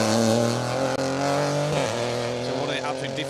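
A modern two-wheel-drive rally car runs an asphalt stage at Rally Ceredigion, its engine droning loud and steady with pitch shifts as it changes gear, while a commentator talks over it.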